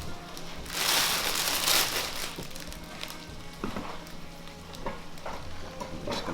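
Pieces of French bread brioche sizzle and fry steadily in a pan, the crackle rising loudest early on, with occasional clatters and scraping stirs close by.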